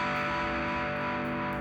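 A NUX MG-30 multi-effects unit rings out with a sustained, distorted guitar effects tail after a scene change, a dense steady wash holding at even loudness throughout.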